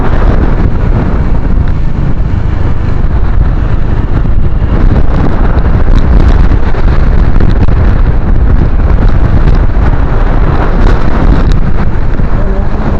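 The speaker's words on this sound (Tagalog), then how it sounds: "Pa rin yung hangin dito." Steady, loud wind roars across the microphone on a mountain road, a constant low rumble and hiss with no letup.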